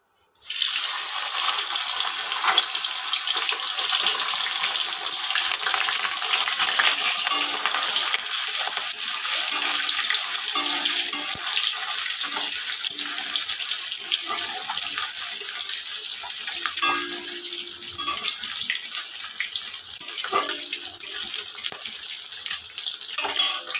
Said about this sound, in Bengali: তেলটা গরম হয়ে গেছে, ডিমগুলো আমি ছেড়ে দেবো।